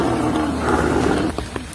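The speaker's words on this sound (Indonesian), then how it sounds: "Bos, apa bos dengar suara harimau, bos?" A tiger's roar in a short horror film, loud and close, a low sustained growling rumble that tails off near the end.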